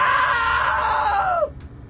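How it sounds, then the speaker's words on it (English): A long, loud scream from a character in the video game What Remains of Edith Finch, sustained and wavering before sliding downward and cutting off abruptly, followed by a brief faint tail of background sound. "Now that was a great scream."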